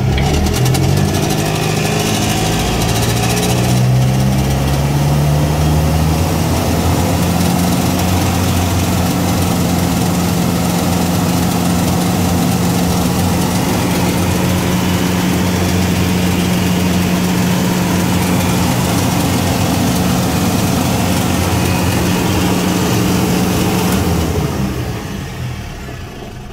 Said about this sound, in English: All I'm doing is turning the ignition for it on and hitting the big old start switch.